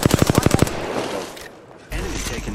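Rapid automatic gunfire in the shooter game Apex Legends rattles off about eight quick loud shots, then gives way to game noise, with a voice talking briefly over it.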